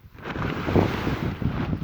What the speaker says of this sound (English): it's like way too windy up here for it